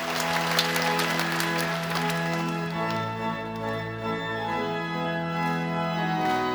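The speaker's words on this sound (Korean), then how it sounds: "우리를 사랑으로 안으시는 주님께 감사와 영광의 박수 올려드리시겠습니다" Church congregation applauding during a Korean prayer meeting service, steady sustained clapping from many hands blended with a sustained organ or keyboard accompaniment throughout.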